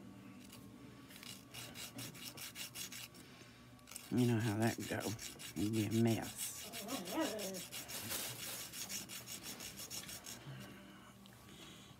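Repeated rasping strokes of a nail file on fingernails, steady back-and-forth scraping throughout, with a person talking briefly partway through.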